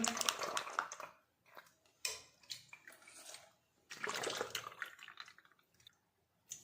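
Homemade milk badam is poured into small bottles in short bursts of splashing, trickling liquid, separated by pauses and a few light clinks.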